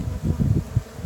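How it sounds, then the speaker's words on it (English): Honeybees buzz close by during a hive inspection, a low uneven drone with small swells as individual bees pass near. "you can tell these are very docile bees"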